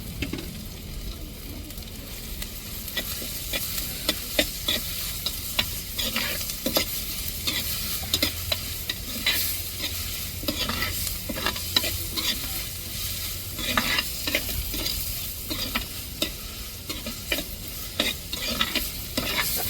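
Ground garlic sautéing with onions in a pan for an eggplant kuzhambu, a steady sizzle and frying crackle with repeated scraping stir strokes throughout, close and with no voices.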